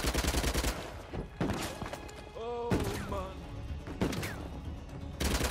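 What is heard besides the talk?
gunfire in a video game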